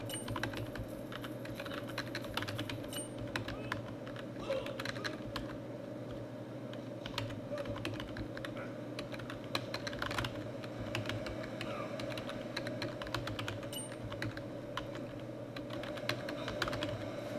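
Steady computer keyboard typing runs through the whole stretch, dense clattering keystrokes at close range with a constant low hum beneath, no talking.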